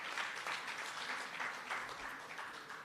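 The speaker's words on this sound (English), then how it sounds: "Please give her a round of applause" Steady round of applause from an audience at a senior citizens week launch event, dense even clapping sustained throughout at moderate distance with no voices on top.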